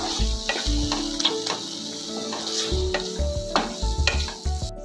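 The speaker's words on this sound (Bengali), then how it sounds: "এবার ভালো করে নাড়িয়ে নিচ্ছি আর একটু সামান্য তেল দিচ্ছি" Spice paste with green chillies fried in oil for a yam curry and stirred steadily, giving a close, continuous sizzle broken by repeated scraping strokes and light clinks of a spoon against the pan.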